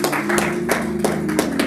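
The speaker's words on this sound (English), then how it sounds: "Give the Lord a hand clap of praise." A church congregation at a Sunday communion service claps together in praise, with steady, evenly spaced hand claps about three per second, loud and close.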